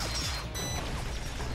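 Elevator machinery arriving in the Binary Domain video game: a short burst of clanking, ratcheting mechanical noise with metallic ringing over a steady low rumble, loud and close.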